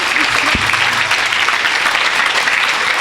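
A church congregation applauding the Lord in a dense, loud burst of clapping that fills the hall throughout, with faint voices mixed in.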